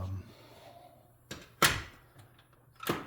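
A house's back door opens and closes with a few sharp clunks and a latch click, close by in a quiet room.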